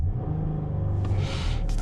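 A 2024 Chrysler Grand Caravan minivan's engine revs up against its 4,000 RPM soft limiter, a steady low drone swelling into a louder, brighter roar partway through before easing off.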